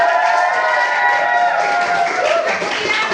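A crowd claps and cheers continuously at moderate volume, a dense wash of applause with no clear pauses.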